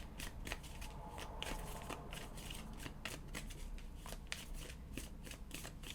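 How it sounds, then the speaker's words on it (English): Tarot cards shuffled by hand, a quick run of crisp riffling flutters and soft taps repeating steadily, close and fairly quiet with no voice. "Let's pull some cards for you,"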